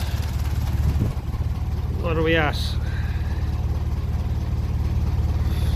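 A 1957 Ferguson 35 tractor with a TVO engine idles steadily at low revs, a constant low rumble running throughout with a brief rev, while someone speaks briefly close by.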